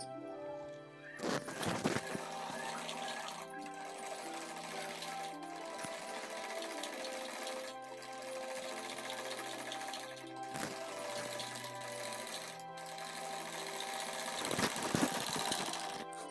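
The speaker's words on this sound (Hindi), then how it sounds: "तो आइए हम सिलाई लगा लेते हैं।" A sewing machine runs a seam on a ladies' suit, a sustained close motor hum with rhythmic stitching over about sixteen seconds, broken by a few sharp handling clicks.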